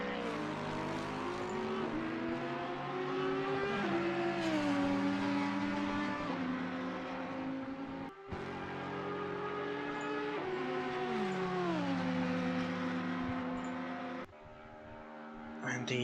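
GT3 race cars lapping in the Assetto Corsa Competizione sim racing game, engines droning and rising and falling in pitch through the gears, with a commentator's voice running over the top.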